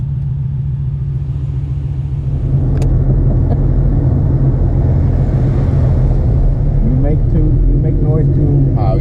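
A car engine revs and accelerates, a steady low rumble swelling louder partway through, heard from inside the vehicle with faint voices underneath.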